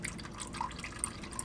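Oil dripping slowly from the drain point of a 2020 Subaru WRX STI during an oil change, a few faint, sparse drips over a low steady background hum.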